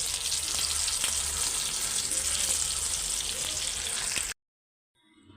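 Tikia patties fry in a pan with a loud, steady sizzle that runs for about four seconds and then cuts off abruptly, leaving near silence and a faint sound at the end.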